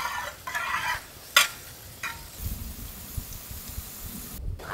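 Onions fry and get stirred in a pan for vegetable masala noodles, with a soft sizzle under sharp scraping strokes and one loud clatter, while birds cluck faintly in the outdoor village setting.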